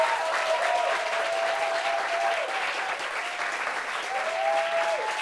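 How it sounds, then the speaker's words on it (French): A studio audience applauds a guest being welcomed onto a French-language talk show set, steady dense clapping filling the whole stretch, with whoops and a faint voice calling out over it. "on l'applaudit s'il vous plaît."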